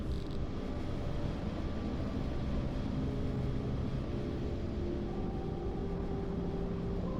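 Submarine engines in the UBoat video game drone on steadily, a loud continuous low mechanical rumble with faint humming tones, unbroken and without speech.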